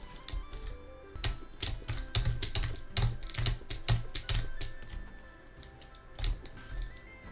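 Fast, steady clicking and clacking of a computer keyboard and mouse during play of a 3D version of the platformer Celeste, loud and close, with dense rapid key taps and no talk.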